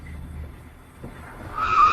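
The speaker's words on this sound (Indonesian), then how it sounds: "Kenapa kamu menyalakan mobil?" A car engine murmurs low before tires break into a rising squeal and skid near the end, growing louder over the final half second.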